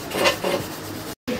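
Cooking pots and utensils being scrubbed by hand at a home kitchen sink, a steady close rasping rub in two long strokes, then a brief silence before the scraping resumes.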